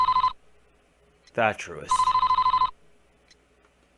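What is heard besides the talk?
telephone ringing in video game Famicom Detective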